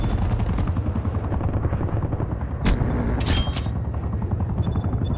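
Loud, continuous helicopter rotor drone from an enemy care package drop in Call of Duty: Black Ops Cold War multiplayer, with brief bursts of gunfire cutting through midway.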